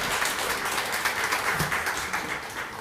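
Church congregation applauding during a Sunday worship service after a praise team's singing, a steady, dense wash of clapping filling the room throughout, with no clear talking over it.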